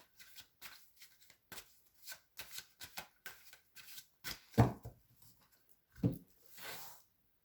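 Cards are shuffled and drawn for a reading: soft, rapid riffling and flicking bursts, quiet and close, with a couple of sharper slaps as cards are laid down.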